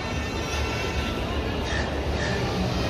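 A train gives off a steady, loud rumble and rattle that fills the whole stretch without a break, at Mumbai's Chhatrapati Shivaji Maharaj Terminus railway station.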